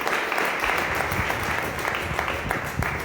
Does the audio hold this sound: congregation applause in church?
yes